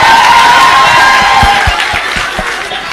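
Young crowd cheering and clapping at a political gathering with a Kenyan ODM secretary general, loud and close, a dense roar with shouts and scattered claps that eases slightly toward the end.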